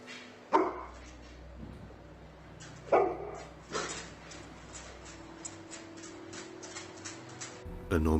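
A dog barks at the front door of a house, three separate loud barks spread across several seconds with quieter stretches and faint whimpering in between.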